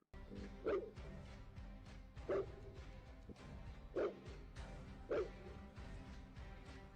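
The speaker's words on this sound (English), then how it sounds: "Their loud barking serves as a warning, which successfully stops the coyotes from howling and approaching closer." Farm dogs at night warding off coyotes, giving four faint, evenly spaced barks well off in the distance over a steady low background hiss.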